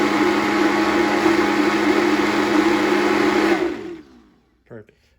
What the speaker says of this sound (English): let's just toss it in the Vitamix for about a few seconds here